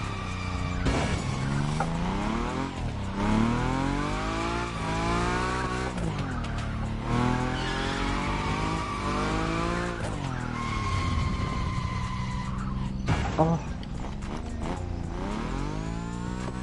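In the racing game Motorfest, a Nissan Nismo car slides at high speed, its tyres squealing in long, wavering screeches over a roaring engine, heard up close with repeated swells and no talk.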